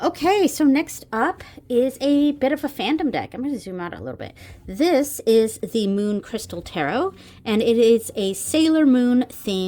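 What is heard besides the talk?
None of the usual background noises is heard.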